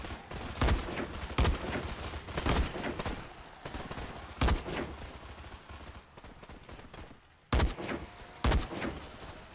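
Rifle fire from a Dead Frontier 2 build rings out in a steady rhythm of loud single shots, some landing in quick pairs, set against a continuous noisy game backdrop with brief gaps between bursts.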